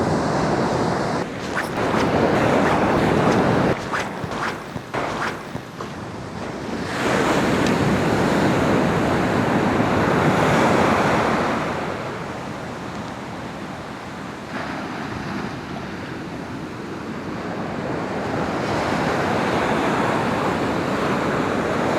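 Ocean surf breaking on the shore on an early-morning surf perch fishing outing, a loud roaring wash of waves that swells and recedes over about twenty seconds, with wind buffeting the microphone and no talking.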